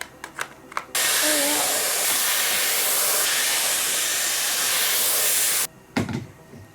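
A Dyson hair styler blow-drying hair roars in as a steady, loud, close rush of air for several seconds, then cuts off abruptly, with brief handling sounds before and after.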